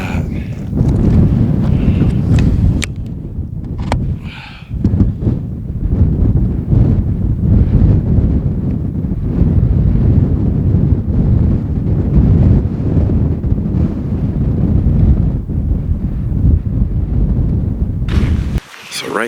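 Strong mountain wind in the San Gabriel Mountains buffets the microphone with a loud, continuous low rumble and gusty roar that persists throughout and cuts out abruptly near the end.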